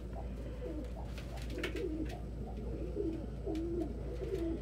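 Pet pigeons or doves cooing indoors, a series of soft, low rolling coos repeating every second or so over a constant low hum, with a few faint chirps and light rustling.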